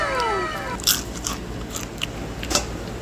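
Crunchy fried peanuts (adobong mani) crack between the teeth in a few sharp, close bites and crunches against a quiet background.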